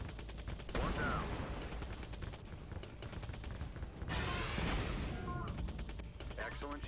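Drone gunfire from the mobile game Drone: Shadow Strike, a steady crackle of rapid shots running throughout at moderate level, with short whistling tones breaking in now and then.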